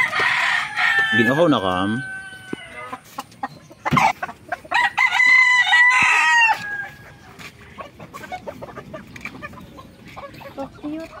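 Chickens clucking and a rooster crowing on a small farm, loud nearby calls with layered clucks and a drawn-out crow, while people talk in between.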